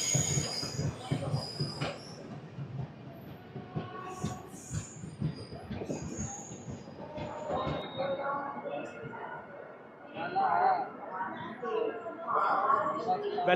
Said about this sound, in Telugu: Welcome to Champa junction railway station.